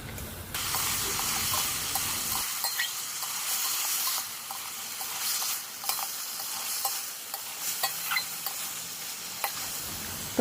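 Cumin, onion and garlic paste with spices frying in a pan for a taro curry, a loud steady hiss and sizzle with occasional scraping stirs, close by and without speech.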